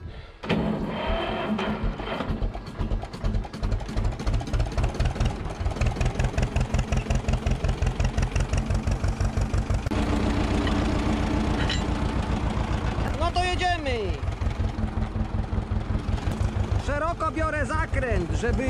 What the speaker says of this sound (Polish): odepnę traktor, zobaczymy jak to będzie się jechało z tym.